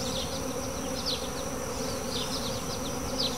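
Honeybees buzz steadily and densely while a hive frame is lifted for inspection in a laying worker colony, a continuous close swarm hum with scattered individual bees whining past.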